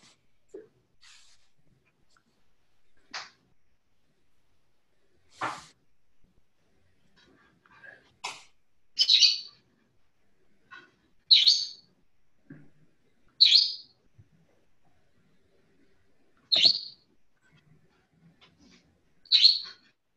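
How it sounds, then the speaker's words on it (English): A pet bird chirps indoors in a quiet room, giving short, sharp tweets at irregular intervals several seconds apart, some louder and brighter than others, with faint rustles between. "Does somebody have a bird?"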